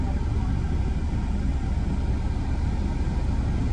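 An auto rickshaw drives past on a street; a continuous, fairly loud engine rumble stays steady throughout, with voices faintly beneath it.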